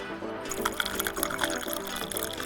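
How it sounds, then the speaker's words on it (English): Hot tea drips through holes poked in a hollowed-out orange rind, a continuous close trickle with small splashy droplets. "Just watch it drip."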